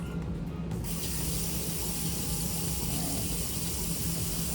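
A whisk rinsed under a running kitchen tap, a steady close rush of water that continues evenly throughout, with no talking.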